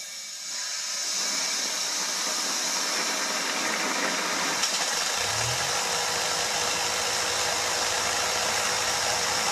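A small micro hydro generator starts up and runs with a steady, broadband whirring hiss and low hum, continuous and close.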